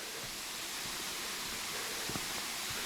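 Falling water at a rainforest waterfall in Springbrook National Park, a steady, broad rushing roar that fills the whole stretch without pause.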